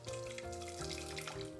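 Hot water trickles into a pot holding a fish stock cube, a brief soft pour heard faintly over steady background music.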